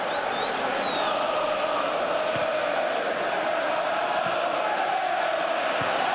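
Arsenal supporters in a packed football stadium at Chelsea, a sustained roaring crowd swell with chanting and whistles, broad and distant, without a clear peak.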